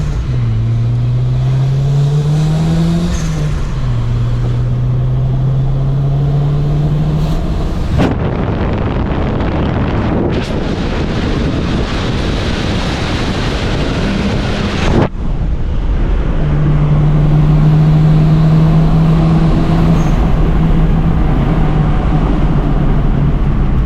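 Tuned car engine with Seafoam additive in the oil, revving steadily from inside under heavy wind rush, rising and falling through several pulls with a loud broadband surge mid-clip.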